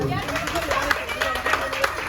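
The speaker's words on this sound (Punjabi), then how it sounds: "ਖੁੱਲ ਕੇ ਤਾੜੀਆਂ ਮਾਰੋ ਜੀ।" Rhythmic clapping from a group keeps a steady beat beneath a speaking voice and crowd noise.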